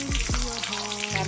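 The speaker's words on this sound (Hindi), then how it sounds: "तेल पड़ला तापर रसुण पकेबा।" Chopped garlic and slit green chillies sizzle in hot oil for a chilli soyabean dish, a close, steady frying crackle with a brief stir.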